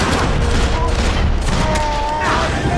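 Gunfire in the video game Max Payne 3, a dense continuous barrage of shots and booms with layered game sound, loud and sustained across the whole span.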